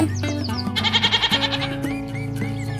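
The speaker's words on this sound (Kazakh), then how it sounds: "Ешкі." A single goat gives one close, loud bleat with a fast quivering vibrato, fading into sustained musical tones and light chimes.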